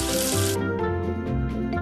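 Water running from a tap to rinse soap off, a steady splashing stream under bright synth music in a children's game.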